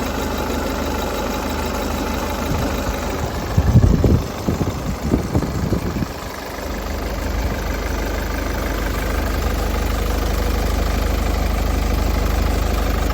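A 2013 Ford Kuga with a 2.0 diesel engine and manual gearbox idles close by, a steady, quiet low hum with a brief louder lumpy stretch midway before settling back to an even murmur.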